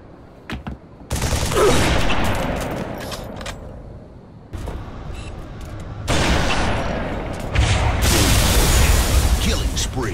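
Sniper rifle shots from the Halo video game go off in sharp, loud cracks spread through the clip, separated by quieter gaps and mixed with game sounds.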